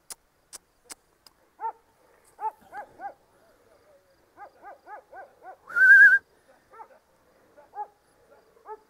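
Kangal dogs barking in short, separate bursts that come and go among rocky cliffs, moderately close, with a sharp whistle blown in the middle and a few clicks at the start.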